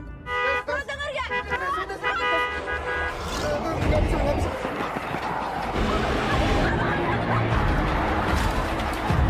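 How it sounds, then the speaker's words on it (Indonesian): A car horn blares in short toots over loud, busy background noise and a low rumbling engine, with voices mixed in. "membunyikan klakson yang membuat para zombie mengejar mereka"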